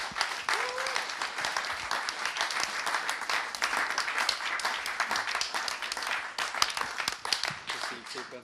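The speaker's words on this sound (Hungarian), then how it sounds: "egy nagy tapsot nekik" An audience applauds in a steady, dense wash of clapping that runs evenly from start to finish, with voices murmuring faintly beneath it.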